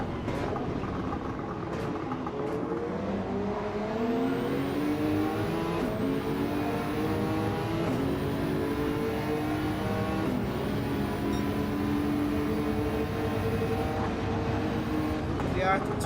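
Nissan Silvia touring cars racing in a video game, engines droning with rising and falling pitch as they shift and accelerate through corners, under steady commentary talk.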